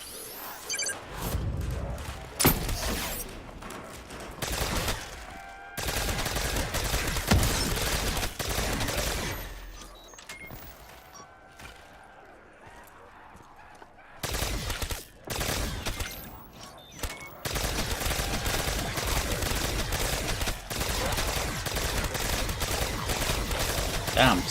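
Rapid bursts of Ray Gun Mark II fire in Call of Duty: Zombie Chronicles on the Nacht der Untoten map, round 50, cutting loud and dense through most of the stretch, with brief quieter gaps between volleys and faint speech-like sounds mixed in.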